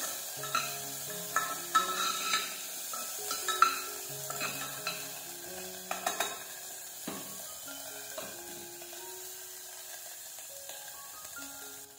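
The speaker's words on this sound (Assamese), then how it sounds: "গোমধানখিনি অকণমান নৰম হোৱালৈকে আমি অকণমান ভাজি ৰাখিম।" Broken wheat frying in a pan while being stirred for a vegetable soup: a steady soft sizzle broken by frequent light scrapes and clinks of the utensil, close and moderately quiet, with no voices.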